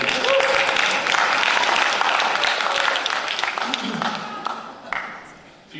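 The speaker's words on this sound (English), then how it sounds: "Give yourself a hand." An audience in a council workshop gives itself a round of applause. Dense, sustained clapping at close range fades out over several seconds to near silence.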